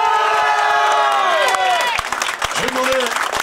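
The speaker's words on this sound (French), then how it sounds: "sous un tonnerre d'applaudissements, Kevin" A crowd at a hill climb race in La Broque claps and cheers loudly, with shouts and a whistle rising over the applause as a presenter speaks through a public address.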